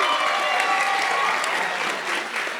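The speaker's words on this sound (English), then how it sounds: "Please give them a round of applause." Lively audience applause at a jazz music workshop, steady, close clapping from a crowd that carries through the short moment without letup.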